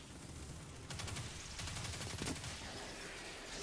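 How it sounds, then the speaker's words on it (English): Rapid bursts of video game gunfire crackle over a steady background hum, with the shooting picking up partway through and continuing in dense, repeated volleys. "Tim, stop shooting those people"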